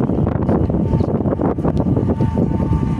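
Steady wind buffeting a microphone outdoors at the MOA Sky rooftop in Manila, a continuous low rumbling roar with gusty swells throughout.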